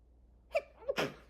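A single close sneeze, with a quick sharp inhale before the explosive burst, loud and abrupt in an otherwise quiet room.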